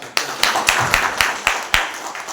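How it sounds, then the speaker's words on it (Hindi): Audience members at a teachers' training institute seminar clap in a short burst, a handful of distinct, evenly spaced claps ringing out in a small hall. "इसलिए आप लोग अपने लिए एक बार जरूर ताली बजा लें।"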